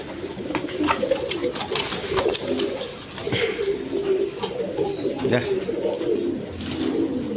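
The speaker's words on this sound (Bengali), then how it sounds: "দেখেন একদম কোয়ালিটি সম্পন্ন কবুতর দেখেন" Rajgolla pigeons cooing continuously up close, overlapping soft throaty coos in a repeating rhythm, with someone talking intermittently nearby.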